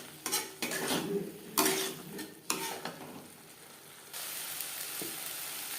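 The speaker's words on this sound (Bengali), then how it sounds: "মশলার সাথে লবণ হলুদ ও রেড চিলি পাউডার বেশ ভালো করে মিক্সড করে দেবো। আর দিয়ে দেবো আলু।" Small boiled new potatoes stirred into frying masala with salt, turmeric and red chilli powder for a pangas fish curry, with bursts of spoon scraping and clatter against the pan, then a steady sizzle.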